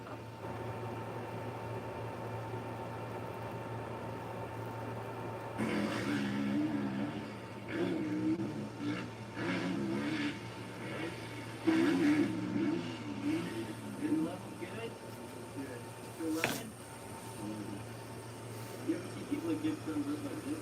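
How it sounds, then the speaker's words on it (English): A laser machine warms up while a secondary cooling fan runs, producing a steady low hum that turns louder and busier partway through, with fluctuating mechanical whirring and a sharp click near the end. "Laser's getting warm now. Secondary fan has kicked on."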